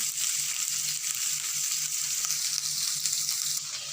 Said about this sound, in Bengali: ভালো করে লাল লাল করে ভেজে নিতে হবে কচুগুলোকে